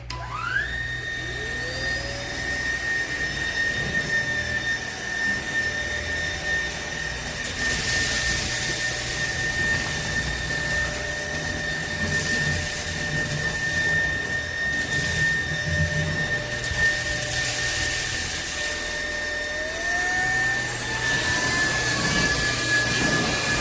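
A SMOTURE 550W cordless vacuum cleaner runs steadily with a loud, constant high-pitched motor whine that shifts slightly in pitch as it is moved around, with no talking.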